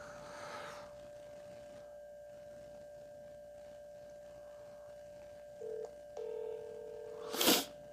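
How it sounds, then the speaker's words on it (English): A phone dials a number, with a few short steady tones sounding one after another over a quiet line, followed by a sharp burst of noise near the end. "I'm going to call the number right now."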